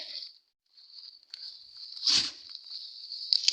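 Overgrown weeds are pulled by hand from around ripening pepper plants in a garden bed, giving close rustling, tearing and crunching of stems and leaves, with one louder rip midway.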